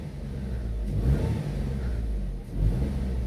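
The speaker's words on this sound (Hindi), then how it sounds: "गाड़ी के अंदर जो लोग बैठ जाते हैं वो ऐसे करते हैं कि ऐसे एक्सेलरेट करते हैं गाड़ी" A car engine revs up under acceleration, a steady mid-pitched rumble that surges twice into louder, rising roars, close and continuous with no talking.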